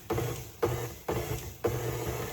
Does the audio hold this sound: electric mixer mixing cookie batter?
yes